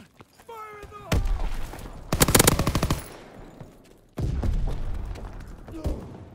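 Rapid bursts of automatic gunfire from a shooter video game crackle in several loud volleys, with a dense sustained stretch in the middle and another burst near the end over game noise.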